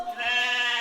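A goat bleat rings out as a sound effect, one short, clear, quavering cry at close range with no voices around it.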